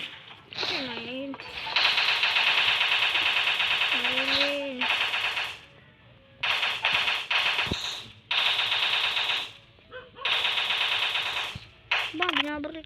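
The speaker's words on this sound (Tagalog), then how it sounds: "Sobrang lakas ng baril ko guys, natakot" Bursts of rapid automatic gunfire from the video game Special Forces Group 2 come in repeated loud volleys separated by short pauses, with some game effects around them.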